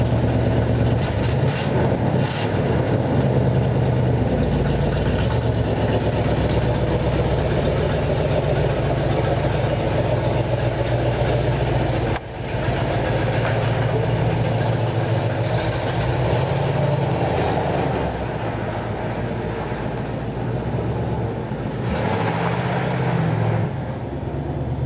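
A car, readied for a transmission swap, idles as it backs slowly out of a garage, giving a steady, loud, low engine rumble that holds even throughout.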